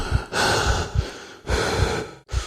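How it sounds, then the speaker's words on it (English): Heavy, loud breathing close up in the video game The Last Door: three long ragged inhale-exhale cycles in a slow rhythm, with no talking. "Except for some loud, heavy breathing."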